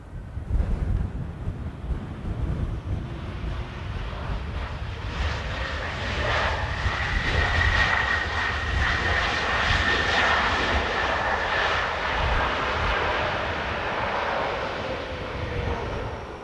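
A Ryanair airliner on approach to Dublin Airport on a windy crosswind day, its jet engines producing a steady, loud roar that swells and holds for the whole stretch, mixed with gusting wind noise on the microphone.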